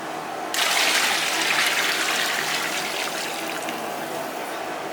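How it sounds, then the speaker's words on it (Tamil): A steady rush of about five liters of water pouring into a cooking pot starts after a brief pause and keeps flowing loudly, with no voices. "இப்போ 5 லிட்டர் அளவுக்கு பச்சை தண்ணி ஊற்றுறோம்"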